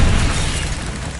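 Bombarda and Confringo spell explosions in a video game, a single heavy blast with a deep rumbling boom that fades out quickly, loud and close.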